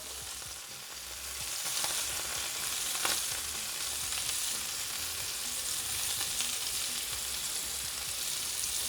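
Shrimp sautéing lightly in a pan for shrimp scampi, a dense, even sizzle that swells after the first second and holds steady, close and continuous with no voices.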